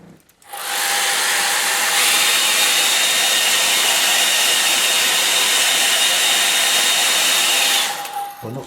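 A hair dryer blows over a wet watercolour painting of an autumn mountain stream, a loud steady whooshing roar that starts abruptly, holds for several seconds, then cuts off.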